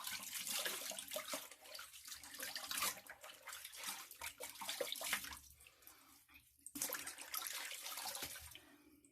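Water runs steadily from a tap for a wet shave rinse, a continuous splashing hiss with brief gaps as hands pass through the stream, close and fairly loud throughout.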